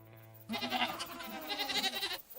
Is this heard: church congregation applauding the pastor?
no